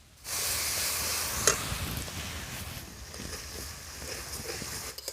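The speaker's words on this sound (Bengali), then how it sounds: "এবার আদা রসুনের পেস্টটা তেলের মধ্যে দিয়ে ভালো করে ভেজে নেবো" Ginger garlic paste hits hot oil for a mutton gravy, bursting into a steady close hiss and sizzle that holds for several seconds with faint crackles, no voices.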